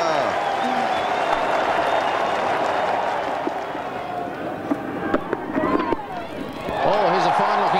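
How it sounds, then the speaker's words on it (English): A cricket crowd at Lancaster Park, Christchurch, cheers and applauds throughout during a one-day international between New Zealand and Pakistan, a loud dense roar with scattered claps, easing briefly in the middle before swelling again. "the crowd give him an enormous cheer here at Lancaster Park"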